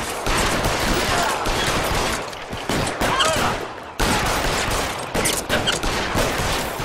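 Gunfire in the crime game LA Noire, a dense, continuous barrage of shots and loud action sound that fills the whole stretch without pause.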